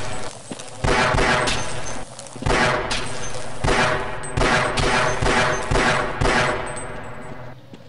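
Rapid bursts of enemy gunfire in the video game Half-Life, loud and close, with repeated volleys and short pauses between them and no talking over them.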